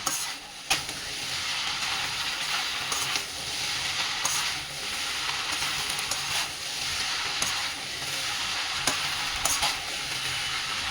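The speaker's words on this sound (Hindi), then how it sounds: "इसे हाई फ्लेम पर इसी तरह मिक्स करते हुए पकाएंगे जब तक सारे पास्ता प्रॉपरली सॉस में कोट ना हो जाए।" Indo-Chinese chicken pasta tossed in sauce over a high flame, a loud continuous hissing sizzle with periodic clanks and scrapes of a utensil against the pan, steady and close throughout with no one speaking.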